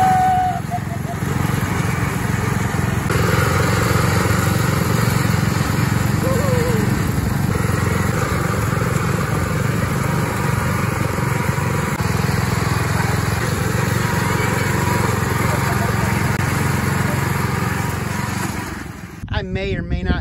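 A small Tecumseh engine on a minibike runs steadily at close range for about nineteen seconds, a buzzy droning note with slight pitch wobble, then cuts off abruptly near the end; a voice is heard over it.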